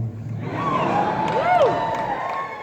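A convention audience at Anthrocon 2017 cheers and whoops, with a mixed crowd roar, rising shouts and a few sliding whistles or yells swelling briefly mid-clip.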